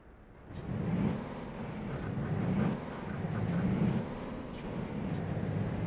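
Volvo truck rated at 730 horsepower with a 12-speed gearbox, driven in Euro Truck Simulator 2 online: a low, steady engine drone punctuated by four or five sharp air-brake hisses, no talking.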